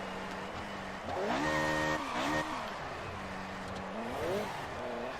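AI-driven race cars in F1 2018 scream past in quick succession, high engine whines sweeping up and down in pitch as they close in and pull away, with brief tyre squeal amid the steady roar of the field.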